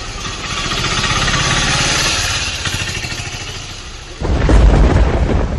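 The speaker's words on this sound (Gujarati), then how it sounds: "વીજળીના કડાકા ભડાકા સાથે અહીં વરસાદનું આગમન થયું" A heavy rumbling roar of storm and rain fills the air, loud and continuous, with a deeper thunderous surge near the end.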